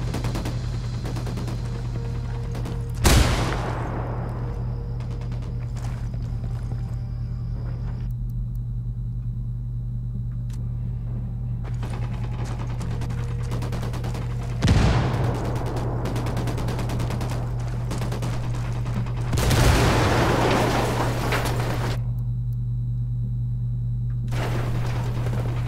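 Gunfire in the video game Ghost Recon Wildlands: three separate loud bursts of shots spaced several seconds apart, over a steady low engine-like rumble and background hum.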